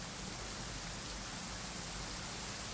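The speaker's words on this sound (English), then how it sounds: "Now I have the ambient sound of rain and thunder." Steady, even video game rain hiss fills the scene, a dense wash of falling water with a low rumble of thunder underneath and no voices.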